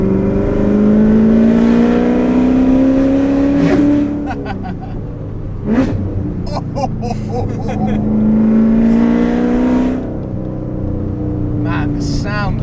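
Loud revving from a 900 bhp Corvette engine, rising in pitch through two long pulls with a sharp blip between them, heard from inside the moving car with a voice over it.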